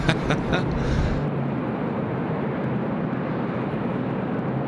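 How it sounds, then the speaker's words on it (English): A Jetstar Airbus A321neo airliner roars at an airport on a windy morning, a loud, steady broadband jet rumble that stays strong throughout after a few brief clicks at the start; no talk. "Look at this Jetstar A321neo in this awesome livery, in this awesome morning light."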